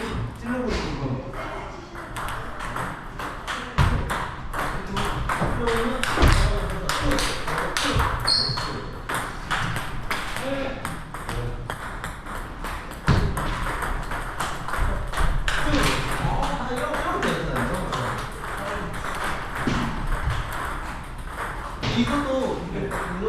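Table tennis balls struck during straight-course drive practice, with a steady stream of crisp taps and pings from paddle and table. People talk throughout.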